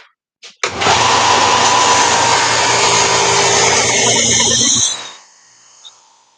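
A power sander switched on to clear junk out of it runs loud and steady for about four seconds, then spins down and stops, with a couple of clicks before and after.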